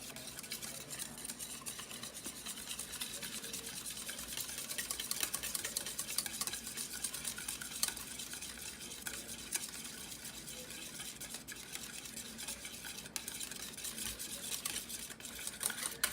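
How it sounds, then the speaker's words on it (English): A whisk stirring a bowl of mixture seasoned with pink Himalayan salt and pepper, a steady, quiet scraping and swishing that carries on evenly throughout with no talking. "Now we'll just whisk it."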